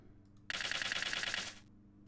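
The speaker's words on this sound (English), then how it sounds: "So yeah, I'm using the bullet seed sound from Gen 3. It sounds like this." Bullet Seed effect from a Generation 3 Pokémon video game, a rapid burst of crisp, bright clicking pops fired in quick succession for about a second, loud and alone against a quiet backdrop.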